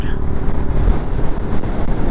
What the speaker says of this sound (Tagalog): Grabing hangin.